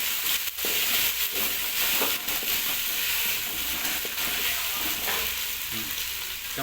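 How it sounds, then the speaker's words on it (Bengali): Ginger garlic paste fries with browned onions in a pan for a chicken dish, a loud continuous sizzle close by with scraping stirs throughout and no talking. "আমাদের আদা রসুনের পেস্ট দিয়ে আছে, হালকা নেড়ে নিতে হবে।"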